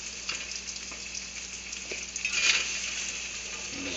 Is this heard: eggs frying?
yes